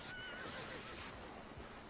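A horse in the online fantasy game Albion Online neighs in a short whinny, faint and somewhat distant against a steady background hiss.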